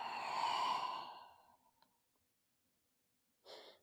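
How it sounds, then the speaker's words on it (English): A slow, deep exhale during a mellow evening yoga session, a long breathy sigh that swells and fades over about a second and a half, close and soft, followed by quiet and a brief second breath near the end. "Exhale as you round."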